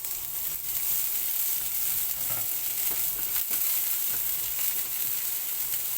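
Chopped onion sizzling and frying steadily in hot oil already browning with garlic, a dense continuous crackle with a few stirring scrapes, close and fairly loud, no voices.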